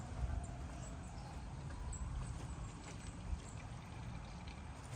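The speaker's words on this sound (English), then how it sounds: "I hear the water running." Water from a hose runs steadily through the engine and exhaust of a Sleek Craft jet boat that has been sitting for years, producing a faint, continuous trickling and bubbling with a low rumbling undertone and no speech.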